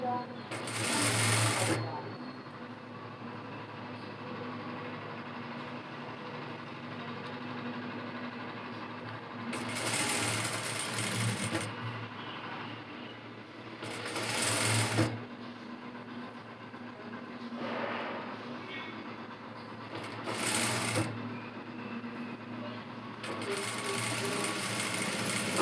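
A sewing machine stitches a folded hem in short bursts of rapid, rattling whirring, about five runs separated by pauses, while someone talks in between.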